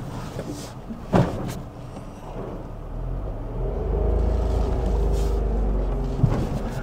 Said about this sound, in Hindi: आपको वैसे ही हमिंग सुनाई देती है बॉडी में, गाड़ी का इंजन जब स्टार्ट होता है वाइब्रेशन फील होती है